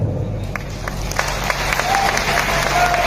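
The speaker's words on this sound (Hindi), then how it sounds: "ये इलाहाबाद वाली तालियां नहीं लग रही है" Audience applause at a business event in Prayagraj (Allahabad), a steady mid-level patter of many hands with scattered louder claps, continuing without pause and no voices over it.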